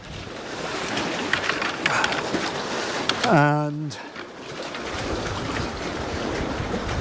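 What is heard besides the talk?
wind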